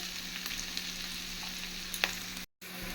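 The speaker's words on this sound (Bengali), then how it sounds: "কাঁচা লঙ্কা একেবারে ভেজে নিলাম" Oil sizzles and crackles steadily as green chilies fry in a pan, a close, continuous frying hiss with a brief cut near the end.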